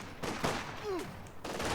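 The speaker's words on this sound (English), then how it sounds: "that machine gun bunker is opening up" A machine gun bunker firing in Company of Heroes 2, with rapid bursts of gunfire that stop and start over a short stretch, loud and close, with a brief whistling tone between the bursts.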